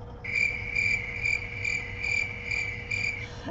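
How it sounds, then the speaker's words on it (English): A cricket sound effect plays as a loud, close, rhythmic chirping trill in regular pulses, alone until it stops just before the end. "Crickets is another good one when you're in line."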